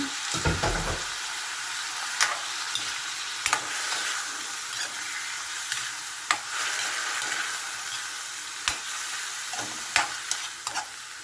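Shrimp sautéing with vegetables in a pan gives a steady close sizzle, broken by occasional sharp scrapes and taps of stirring.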